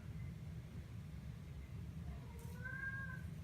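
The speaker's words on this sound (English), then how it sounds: "that's my cat. I don't know if you can hear meowing" A few soft cat meows rise and fall near the end over a steady low background hum, fairly faint and somewhat distant.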